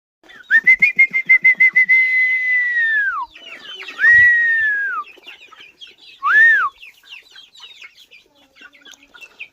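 A man in rural Chhattisgarh whistles to call his chickens: a rapid run of short loud whistles, then long sustained falling whistle notes, close and alone, with faint clucking between them.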